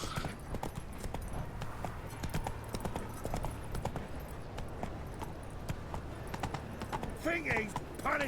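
Roach the horse's hooves in The Witcher 3, a steady clip-clop rhythm of repeated hoofbeats over ambient sound, with a voice briefly heard near the end.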